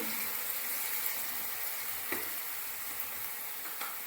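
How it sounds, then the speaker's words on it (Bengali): A small amount of water poured into frying spices for potato dum makes a loud, steady hiss and sizzle with a few soft pops and clicks, continuous and close throughout. "এবার এতে আমি অল্প পরিমাণে জল দিয়ে দেব"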